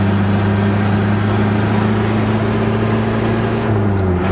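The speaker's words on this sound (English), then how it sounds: "Obviously it has the exhaust leak somewhere up close to the front manifold, I'm sure" A 1981 Chevy Luv diesel truck engine with an exhaust leak runs in a steady, loud, continuous drone with a constant low hum and a slight shift in tone near the end.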